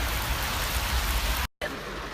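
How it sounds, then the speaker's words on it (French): Steady rain pouring down outdoors, a dense, loud, constant hiss that drops to silence briefly near the end before resuming, with no talking. "comme il pleut"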